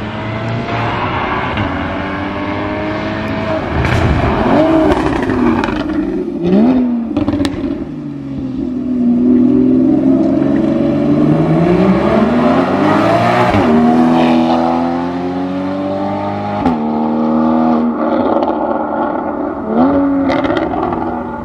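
Porsche Cayman S exhaust revving hard and passing by, engine pitch rising and falling repeatedly, loud and close, with no talking.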